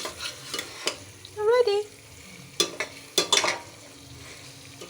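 A spoon stirs chicken feet cooking in tomato sauce in a pot, giving a few scraping strokes over a steady sizzle, with short speech in the clip.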